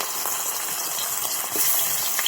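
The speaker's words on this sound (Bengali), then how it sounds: "তো আগে আমি কড়া গরম হয়ে গেছে, মাছগুলো দিয়ে দেবো কড়ার মধ্যে" Salted, turmeric-rubbed fish pieces go into a hot kadai (wok) for a fish curry with potato and cauliflower, giving a dense, continuous close sizzle that swells slightly midway, with no talking.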